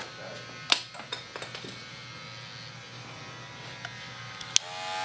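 Black and gold Magic Clip cordless hair clipper running with a steady low electric buzz, close and fairly quiet, with a few sharp handling clicks near the start and end.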